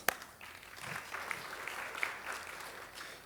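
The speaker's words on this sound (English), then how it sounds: "a round of applause." Faint audience applause at a good governance celebration in Dubai, a soft wash of many hands clapping with a sharp clap at the start, fairly distant and steady throughout.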